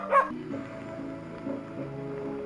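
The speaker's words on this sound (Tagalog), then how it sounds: "May mga aso." A dog gives a short yip near the start outdoors on a cold day, followed by faint whimpering and background noise.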